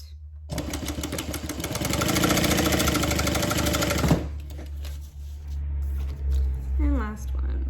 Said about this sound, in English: let's go ahead and top stitch these